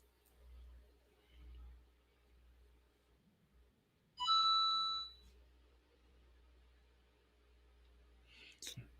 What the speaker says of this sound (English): That's my signal saying it's 10 o'clock